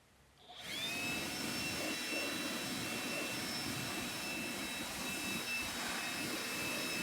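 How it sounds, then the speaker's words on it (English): A blower clears sawdust from an opened Sun Joe CJ602E 15-amp electric wood chipper, starting abruptly and holding a loud, steady rushing roar with a high whine, close by and continuous. "I figured I'd use the blower to clear out the sawdust."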